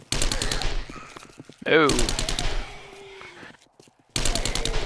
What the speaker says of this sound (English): And you wonder why I like the SMG so much.